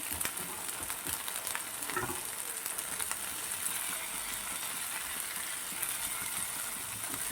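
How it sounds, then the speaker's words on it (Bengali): A spice paste with green chilli and tomato purée frying in a pan for a fish dish, giving a dense, even sizzle with faint occasional stirring scrapes throughout, with no talking. "ওটাও তিরিশ সেকেন্ডের মতো একটু ভেজে নেবো একটা টমেটো পিউরি করেছিলাম সেটাকেও দিয়ে দিচ্ছি"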